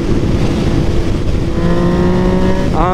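Yamaha MT09 motorcycle with an ECU flash and full aftermarket exhaust pulling in fourth gear, a loud close engine roar with wind noise that builds into a rising rev toward the end.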